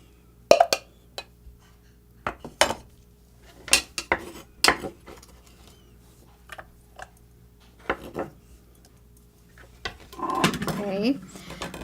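A tomato is placed into a container on a kitchen counter amid scattered knocks and clinks of dishes and utensils, with a voice speaking briefly near the end.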